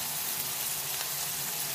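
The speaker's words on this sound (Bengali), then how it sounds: "আমার করলা ভাজিটা ভাজা অবধি আমি অপেক্ষা করব। আমি আরো লাল লাল করে ভেজে নিব।" Bitter gourd fries in oil with a steady, close, continuous sizzle that does not let up, and no voices are heard.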